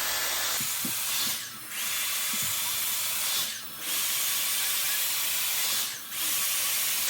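A Dyson Airstrait hair straightener blows a steady, close airflow hiss while drying hair, broken by three short dips where the stream pauses, with faint clicks of handling; no voices.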